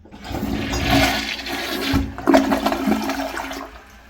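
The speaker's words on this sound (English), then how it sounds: "Let's have a look at a flush. We'll just do a press and release first." An American Standard Cadet Pro toilet flushes after a quick press and release of the handle, a loud close rush of water that swells, gurgles, then tapers off after a few seconds.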